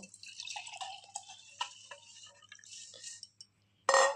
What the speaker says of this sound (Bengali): আমাদের এই ম্যাজিক ওয়াটার এর মধ্যে ঢেলে নেব